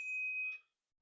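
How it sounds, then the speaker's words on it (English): A cheap Rock Brothers bicycle bell on a Trek FX3 touring bike gives a single bright ding that rings clearly for about half a second before fading out quickly. "my little bell, it's just a little cheap Rock Brothers bell"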